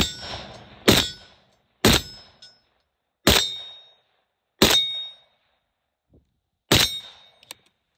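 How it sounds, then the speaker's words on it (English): A rifle fires at steel targets, five sharp shots each followed by a ringing metallic clang, spaced about a second apart with brief silences between, loud and clear with no talking. "Let's do some shooting."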